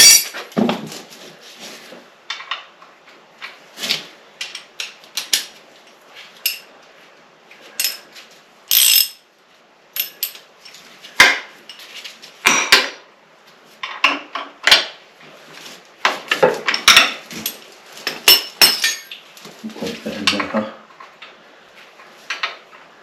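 Metal wrenches clink and rattle as they are tried one after another on engine bolts, with sharp irregular clanks and ratcheting bursts close up between quiet gaps.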